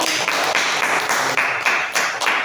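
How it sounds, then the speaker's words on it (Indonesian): A microteaching class claps in unison, loud, even rhythmic beats close by, roughly four claps per second for a few seconds with no talk. "tepuk tangan dulu buat Dani."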